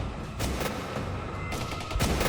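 Gunfire in the video game Penumbra, as guards shoot in an infirmary: a rapid fusillade of sharp shots in bursts, loud and close, with a brief pause midway before the shooting resumes.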